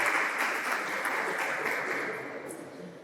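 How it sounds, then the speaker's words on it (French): A quiz contest audience between rival lycée teams gives moderate, distant applause that holds steady and slowly fades toward the end. "On les applaudit quand même."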